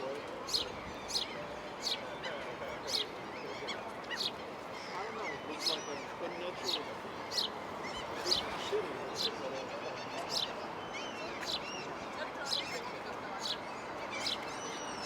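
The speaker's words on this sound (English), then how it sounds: "that bird is right on him" Birds call outdoors in Finland with a regular series of short, sharp chirps about once a second over a steady background, while people talk nearby.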